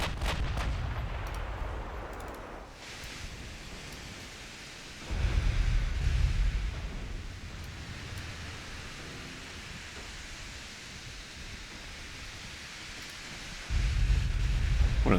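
Six-inch naval guns fire in a video game battle, producing deep rumbling booms in heavy bursts with a constant roaring noise bed between, no voices.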